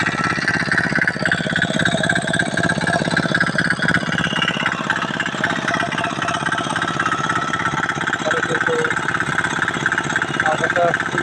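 A rice planting machine's engine runs with a steady, loud chugging drone throughout, and voices talk over it.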